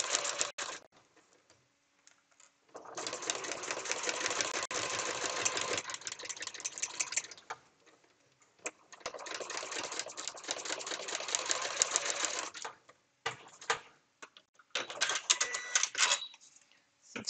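Sewing machine running in three long bursts of steady, close stitching along a seam line on a small fabric piece, separated by brief pauses and a short final run, with no talking.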